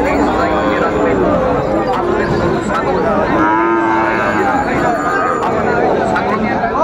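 Cattle moo repeatedly at a busy livestock market in Jamalpur, the long drawn calls rising over a constant crowd babble and people talking nearby.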